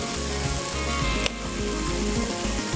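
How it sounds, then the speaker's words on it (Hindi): Minced beef browning with ginger-garlic and green chili paste gives a steady, loud crackling sizzle close up, broken by occasional clanks and scrapes of a spoon against the pan. "ये जो कीमा भुनने का प्रोसेस होगा ये 3 से 4 मिनट का होगा"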